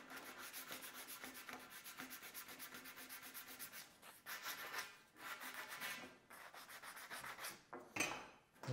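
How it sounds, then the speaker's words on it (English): Sandpaper rubbing back and forth over a wooden stair trim piece with a 45-degree cut end, a steady close scratchy rasp in quick repeated strokes with a few short pauses. "We're just gonna dress it up a little bit with some sandpaper."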